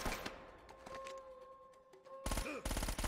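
Video game gunfire in Uncharted: a quick cluster of shots at the start, a quieter stretch under a steady tonal hum, then a dense burst of rapid shots near the end.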